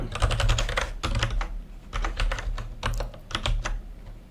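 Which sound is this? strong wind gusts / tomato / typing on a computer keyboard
typing on a computer keyboard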